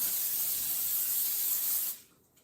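Cooking spray hisses onto a baking sheet in one steady, close burst lasting about two seconds, then cuts off abruptly into near silence.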